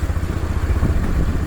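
A motorcycle ridden through a Bangladeshi village after several days of rain, its engine a steady low rumble with some clatter, close and continuous throughout.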